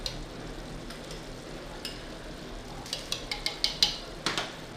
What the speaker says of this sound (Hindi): 2 से 3 मिनट हो गए हैं गोश्त को भूनते हुए।